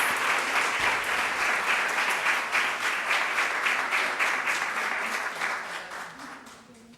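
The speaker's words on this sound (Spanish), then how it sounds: "les pido un fuerte aplauso para recibir a la doctora Patricia de Gortari Gallardo" Applause from an audience welcoming Dr. Patricia de Gortari Gallardo at a lecture event, steady dense clapping that holds for several seconds and then fades out toward the end.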